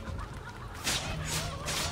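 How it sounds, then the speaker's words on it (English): Chicken-like clucking and honking from the video game Immortals Fenyx Rising, heard against a steady game soundscape, with a couple of louder bursts partway through. "Come here, you little chickens."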